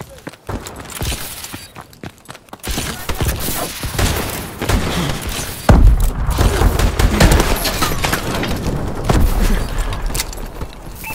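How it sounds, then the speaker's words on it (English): Missile strikes hit during a match of the video game Call of Duty: Advanced Warfare, a chaotic run of loud blasts and crackling impacts, with a heavy boom near the middle and gunfire in between. "missile strikes incoming"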